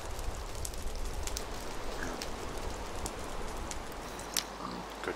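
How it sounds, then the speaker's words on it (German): Pouring rain in the Minecraft video game, a steady dense hiss of falling drops with scattered louder patters, continuous throughout and without speech. "Das Tolle an dem strömenden Regen ist, mein Feuer geht aus."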